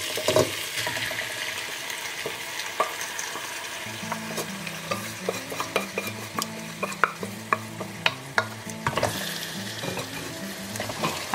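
Goan meat stew ingredients are stirred and mixed in a pan, with a steady low sizzle, repeated spoon scrapes and clinks, and a thin tapping rhythm close by, and no talking.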